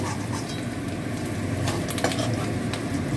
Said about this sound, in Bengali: আমি এবার তুলে নিচ্ছি, আলুটা তুলে নিচ্ছি।